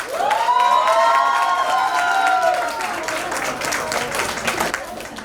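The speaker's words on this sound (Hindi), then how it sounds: "जोरदार तालियां इसके लिए।" Applause and cheering from a crowd at a sangeet ceremony after a dance performance, a dense clapping wash under an amplified voice with a ringing tonal sweep early on, fading a little toward the end.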